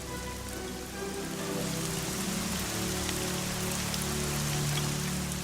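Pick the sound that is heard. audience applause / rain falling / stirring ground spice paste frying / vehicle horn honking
rain falling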